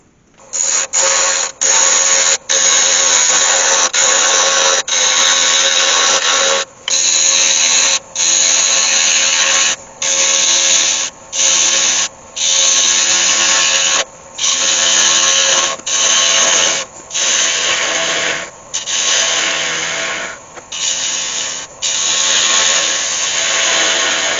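A wood lathe turns a green cherrywood log into a pedestal bowl, giving a loud, steady whirring drone with a cutting hiss that stops and starts in short bursts as the tool is lifted off and set back on the wood.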